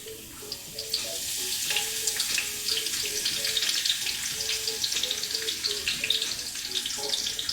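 Food sizzles in hot oil with a steady, faint, bubbling crackle that fills the background.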